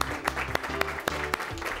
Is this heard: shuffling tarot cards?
no